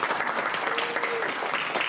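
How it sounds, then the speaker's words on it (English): An audience at a band concert evening claps in a dense, sustained burst, loud and close, with no speech over it. "Let's give him a round of applause."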